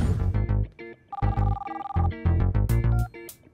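A telephone rings in repeated electronic trilling bursts, a melodic ringtone pattern with short pauses between phrases, fairly close and alone with no talk.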